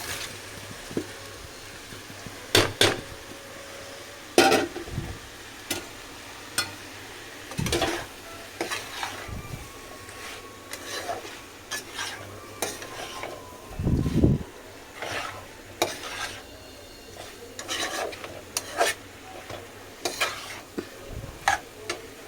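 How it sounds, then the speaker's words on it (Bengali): Pointed gourd and prawns stirred in a pan with a spatula, giving repeated scraping clinks and knocks over a soft background sizzle, close and fairly loud, with no talking. "এটা কিছুক্ষণ এইভাবে নাড়া হবে তারপরে গিয়ে বন্ধ করা হবে"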